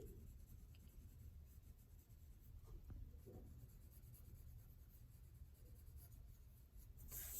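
A colored pencil scrapes softly across paper as someone colors in a blended sphere, a quiet, continuous scratchy rubbing that keeps an even rhythm with faint shifts in stroke pressure.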